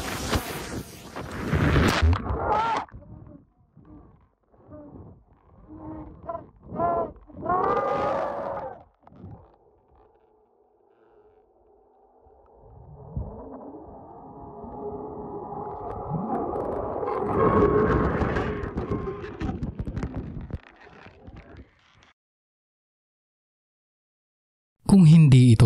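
Eerie, scream-like wavering tone captured at the Devil's Cauldron hot spring, rising and sustaining for several seconds after some opening noise and bumps, moderately loud.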